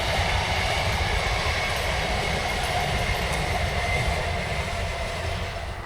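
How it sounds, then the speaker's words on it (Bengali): A train rolls past in a village in the morning with a loud, continuous rumble and rattle of wagons, steady and close before easing slightly at the end. "সকালে ট্রেন যাচ্ছে"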